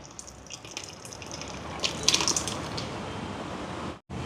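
Water poured from a tap into a mixer jar of tomato chutney, a steady close gushing and splashing stream that runs for several seconds, then cuts off briefly near the end.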